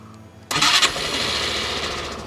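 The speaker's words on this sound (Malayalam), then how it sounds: "സോ വളരെ സ്മൂത്തായിട്ടാണ് വണ്ടിയുടെ എൻജിൻ സ്റ്റാർട്ട് ആവുന്നത്" A Suzuki Access 125 scooter on its stand starts with a short crank that catches at once, then settles into a smooth, steady idle close by.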